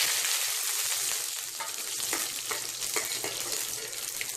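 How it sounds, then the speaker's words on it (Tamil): Mustard seeds and curry leaves crackle and sizzle steadily in hot oil, with sharp popping bursts from the seeds over a constant frying hiss, loud and close, with no voices. "கடுகு நல்லா பொரிஞ்ச பின்னால் நம்ம கருவேப்பிலை சேர்த்துக்கலாம்"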